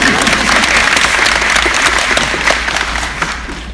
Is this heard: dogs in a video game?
no